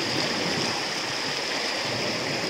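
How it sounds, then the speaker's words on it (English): A waterfall on a hiking trail pours steadily, a dense, even roar of rushing water heard close and alone without any voices. "Waterfall. Or water."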